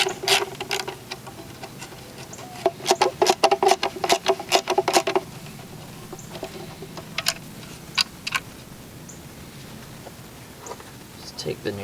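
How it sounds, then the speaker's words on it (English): Socket ratchet clicking as two 7mm bolts are backed out of a black light bracket on a C5 Corvette, bursts of quick ticking in short runs with pauses between them. "Now what we have to do is remove these 2 7mm bolts from this black bracket"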